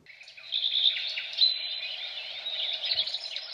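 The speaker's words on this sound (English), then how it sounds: "I have the alarm set for 4:21 and I set it for birds chirping" Birdsong alarm tone from a small, colourful digital alarm clock, a thin continuous warble of chirps and tweets playing near and clear for a few seconds.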